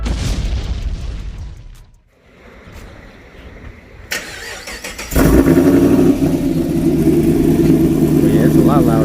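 A cammed Pontiac G8 with a BTR Stage 3 PDS cam cranks and fires with a sudden loud boom, then settles into a deep, choppy, aggressive exhaust idle that stays loud and close.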